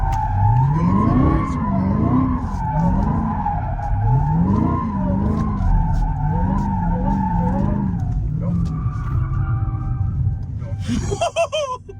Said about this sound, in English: I'm spinning out right now.